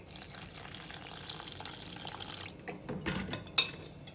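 Water pours into banana bajji batter in a bowl, a soft trickle that grows into a brief, louder splash near the end, heard close up and without voices.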